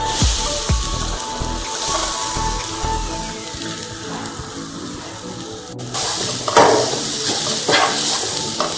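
Grated coconut roasting in a hot pan for a red snapper curry, a dry rustling sizzle with spatula stirring and scraping, close and steady, a brief clatter near the end.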